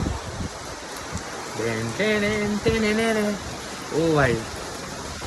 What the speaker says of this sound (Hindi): यहाँ तो बारिश टेढ़ी टेढ़ी आ रही है अंदर को